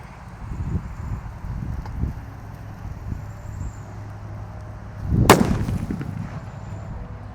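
A large paper firecracker called colorful thunder with a thick pink fuse goes off in one sharp, loud bang after a stretch of low rumbling outdoor background noise, followed by a fading rumble.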